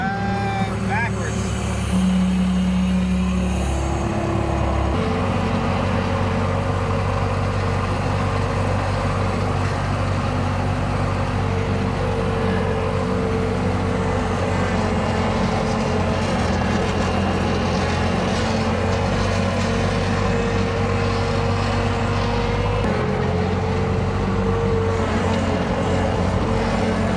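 A skid steer loader's engine runs steadily as the machine drives backwards, a loud continuous low rumble with a droning hum that holds throughout, with a shift in tone partway through.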